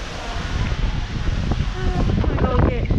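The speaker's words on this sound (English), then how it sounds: "It is windy out here." Wind buffets the microphone on the open deck of the Oasis of the Seas cruise ship at sea: a gusty, low roar that never lets up, with faint voices underneath.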